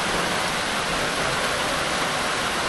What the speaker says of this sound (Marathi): मस्त आहे की पाऊस चालू झालाय